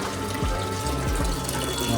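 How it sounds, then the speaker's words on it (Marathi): Hot water from a gas-fired automatic geyser runs steadily from a tap in a hotel bathroom, a continuous splashing hiss with a few low gurgles, close and fairly loud, with no one speaking. "आता गॅसवाला गिझर आहे. ऑटोमॅटिक पाणी गरम होतं."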